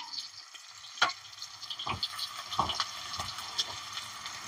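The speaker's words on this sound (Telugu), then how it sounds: "ఇగో 3 ఉల్లిగడ్డలు ఇగో వేసేస్తున్నా" Three sliced onions dropped into hot oil for a Telangana chicken curry, giving a soft steady sizzle broken by a few sharp stirring clinks and scrapes of the spoon in the pan, fairly quiet and close.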